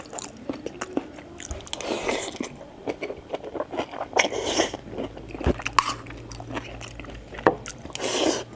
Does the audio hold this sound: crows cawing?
no